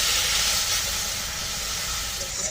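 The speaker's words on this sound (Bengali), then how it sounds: "এখন আমি অল্প একটু জল দিয়ে মশলাটা ধীরে ধীরে কষাবো।" Spice masala of chilli powder and turmeric hisses and sizzles loudly as a little water hits the hot pan, a dense continuous steam-like rush close by.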